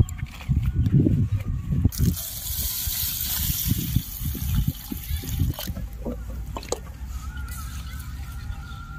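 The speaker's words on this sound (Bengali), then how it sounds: "ভাজা তো হয়ে গেছে ডালটা। এখন জল দিয়ে ভালো মতন ধুয়ে নেব।" Roasted moong dal being washed with water in a vessel, splashing and sloshing up close, then a rushing pour and trickling, with a few clunks of the pot.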